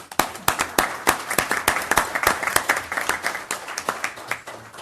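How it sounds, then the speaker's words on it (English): Attendees at a city council meeting applaud with a loud burst of many hands clapping that stays lively for several seconds before gradually thinning out, with no one speaking over it. "So round of applause."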